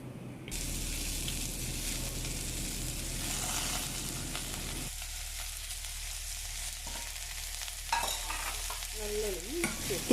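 Curry leaves and finely chopped large onions frying in hot oil, a loud, dense crackling sizzle that persists throughout, with a few stirring scrapes toward the end.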